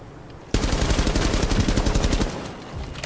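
Rapid automatic gunfire in the Rainbow Six Siege video game, with a sustained loud burst of rattling shots starting abruptly after a quiet moment and continuing to the end, with no talking.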